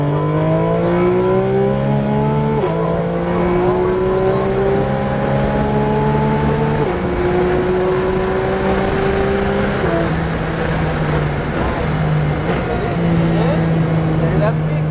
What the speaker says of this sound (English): Back on that throttle. Squeeze that throttle.